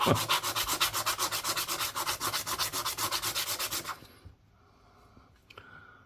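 A Pennsylvania state quarter coin ring being sanded by hand with very coarse sandpaper, a loud, close, rhythmic scratching of quick back-and-forth strokes for about four seconds, then quiet with faint handling noises.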